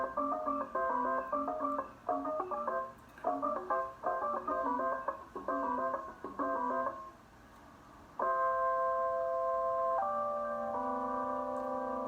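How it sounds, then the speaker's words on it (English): Prepared piano with screws and mollies in its strings, giving bell-like, gamelan-flavoured plucked tones in quick rhythmic phrases, then a few sustained chords ringing out at moderate, slightly distant volume. "This is actually a piano playing."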